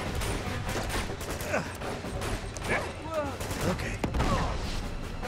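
Close, repeated gunfire in Uncharted 2, sharp shots and short bursts scattered across the span over a busy background of mechanical clatter and effects.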